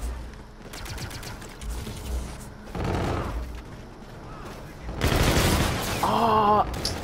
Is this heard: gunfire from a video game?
yes